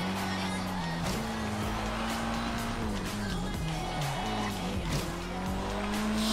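A 1992 Alfa Romeo 155 Q4 races at high speed through the Australian outback in Forza Horizon 3, its engine droning steadily and rising and falling with shifts, under tire squeal and skidding.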